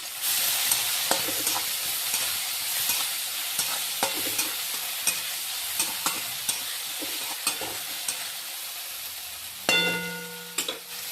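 Potato and crushed green chilli stirred and fried in a pan, a steady sizzle with repeated scraping clinks of the spatula throughout and a brief louder hiss near the end, with no talking.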